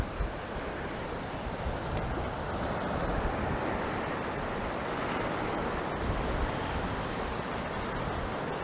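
Ocean surf rolling onto Llantwit Major beach on the South Wales shore, a continuous loud wash of breaking waves mixed with wind buffeting the microphone, no voices.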